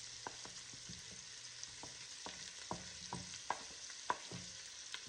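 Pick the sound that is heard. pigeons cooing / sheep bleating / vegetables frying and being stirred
vegetables frying and being stirred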